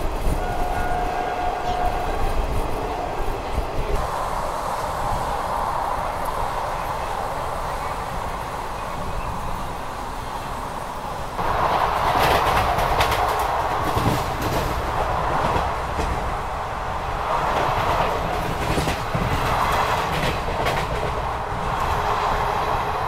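An Indian Railways special train runs through without stopping at Ghaziabad, a loud, continuous rumble of wheels and carriages that swells midway, with faint clatter and no talk.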